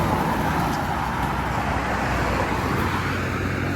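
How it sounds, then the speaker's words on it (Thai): Steady road traffic with many cars on a roadway near a bridge in Phitsanulok, a continuous loud rumble of engines and tires without a break, no voices over it. "รถเยอะด้วย"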